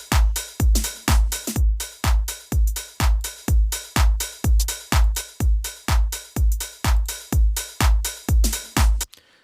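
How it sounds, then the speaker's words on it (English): A punchy drum beat with parallel (New York) compression plays on its own, a steady run of loud, thick hits in an even rhythm with no voices. "parallel drum compression, also known as New York compression."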